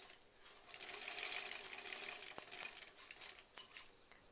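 A sewing machine stitching quilt-as-you-go sampler blocks, a quick bright mechanical whir running steadily with brief pauses and small clicks, fairly quiet and with no talking.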